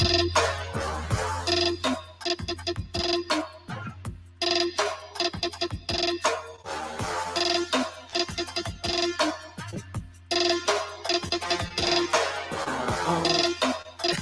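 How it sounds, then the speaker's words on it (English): A mobile phone ringtone plays loud and close, a repeating musical pattern of bright chiming notes with brief gaps, running continuously with no talking. "Oh, is that my phone?"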